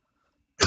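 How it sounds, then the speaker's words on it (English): A single short, forceful cough bursts out abruptly after near silence and is cut off almost as soon as it starts. "This cough is killing me."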